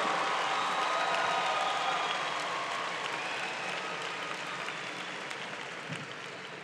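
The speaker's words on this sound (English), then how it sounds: "Give yourselves a big round of applause." Graduates and guests at a university commencement ceremony applaud in a dense, steady wash of clapping that fills a large space, fading slightly toward the end with no voices on top.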